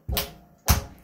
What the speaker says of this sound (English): Stomp your feet.